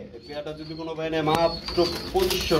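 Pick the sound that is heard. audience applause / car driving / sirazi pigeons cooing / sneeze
sirazi pigeons cooing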